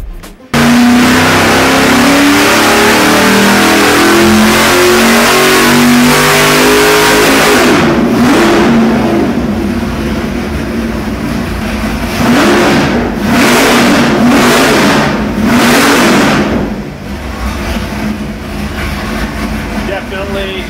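A 572 Pump Gas Warrior crate engine revs hard and loud in repeated rising and falling bursts, with a voice talking over part of it.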